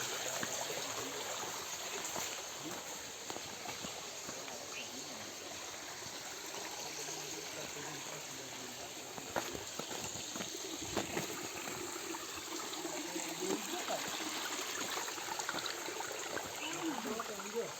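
Mountain streams on Barda hill near Porbandar run with a steady outdoor water rush and trickle, fairly faint and continuous, while someone talks over it.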